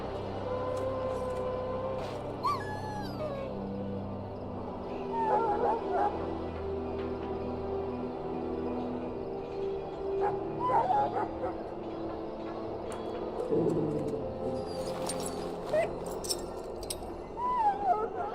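Sick dog in the video game Dragon Age: Origins whimpering and yipping in short plaintive cries and occasional soft barks, close, with game ambience and faint voices underneath.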